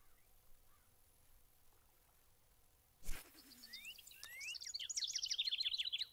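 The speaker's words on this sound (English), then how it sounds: "We got bird sounds and stuff," Chirping birdsong fills the ambient soundscape of the fishing game Fishing Planet, rising to a steady run of bright, repeated calls after a sharp splash-like burst, with no talking.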